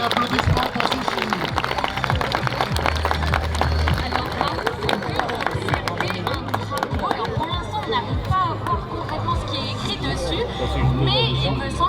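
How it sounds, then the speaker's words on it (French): Air show crowd at Gap-Tallard applauding a precision parachutist dropped from a Pilatus PC6, a dense, steady wash of clapping and cheering that carries an amplified announcer's voice over it for the whole stretch. "applaudissements pour Sushi"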